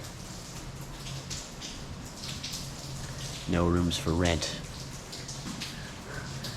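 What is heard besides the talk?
rain falling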